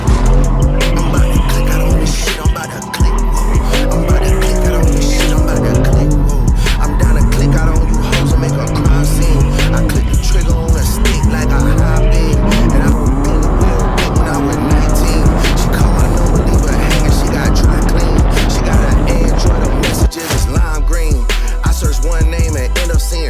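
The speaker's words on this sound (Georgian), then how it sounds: "ეს ავტომობილი ბოლომდე გავწუროთ, ყველა მოსახვევში ვაზიანოსოთ" A BMW M4 is driven hard and drifted around the Rustavi racetrack, its engine revving up and down in repeated sweeps under long, loud tyre squeals, close and continuous.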